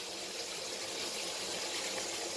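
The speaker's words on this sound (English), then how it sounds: "I add the water into the bowl" Water pours steadily into a bowl for borax slime, a continuous, close splashing gush that stays even for the whole moment with no talk.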